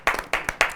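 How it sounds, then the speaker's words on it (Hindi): Three short bursts of audience clapping at a poetry event, brief and close, each burst quickly fading. "पुनः एक बार तालियां बजा दीजिए।"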